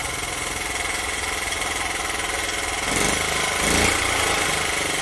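A Honda Z50 minibike with a CDI conversion kit runs with the choke fully off, a steady rapid single-cylinder putter close by, briefly revving louder twice near the end.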